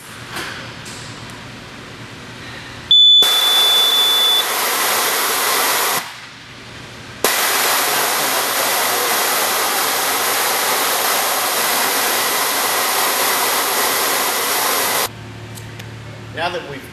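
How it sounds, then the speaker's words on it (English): A nitrogen tire-filling machine vents compressed air out of car tires in a long, loud, steady hiss that holds for several seconds, broken by a brief pause, then cuts off to a quieter machine hum. "we will engage the machine to start relieving the compressed air out of the tires"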